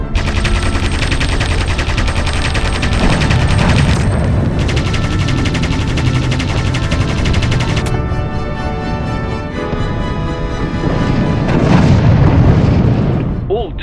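Anti-aircraft guns firing in the WW2 flight game Aviators, dense bursts of rapid gunfire and booming flak blasts overlapping continuously and loudly, with engine drone and a voice speaking underneath.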